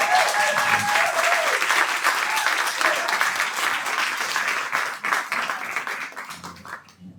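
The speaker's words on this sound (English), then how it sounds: "So please, a big round of applause and congratulations to Dr." An awards-ceremony audience applauds in a dense, steady burst of many hands clapping, filling the room loudly before tapering off near the end, with no talking over it.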